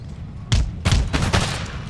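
Opening rifle shots from Swedish riflemen in the Empire: Total War video game: three or four sharp booming volleys spaced about half a second apart over a low battlefield rumble.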